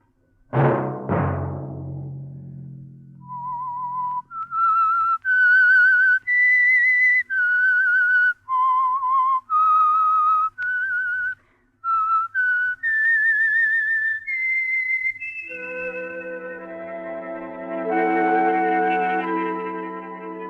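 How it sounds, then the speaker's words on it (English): A lone whistler carries the theme melody of The Whistler radio program, a sequence of clear held notes gliding up and down, then orchestral chords swell in beneath the final tones. "Let that whistle be your signal for the Signal Oil program, The Whistler."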